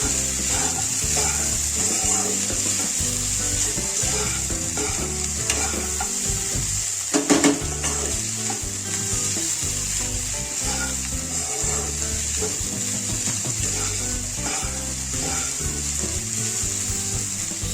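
Masala pulao with cashews is gently stirred and turned in a hot pan, making a continuous soft sizzle and shuffling scrape over several seconds. A brief louder clatter comes near the middle, and steady background music plays throughout.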